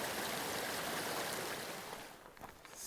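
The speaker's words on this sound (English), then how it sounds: "Coming up on one of our many little creek crossings today." A small forest creek runs full of water at a trail crossing, a broad steady rush heard close at first and fading slightly as the walker moves on.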